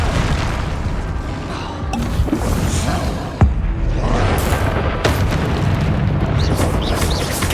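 Confringo spell blasts in the Hogwarts Legacy video game, dense booming explosive bursts layered over a loud continuous rumble, with sharp impacts near the middle, no talking.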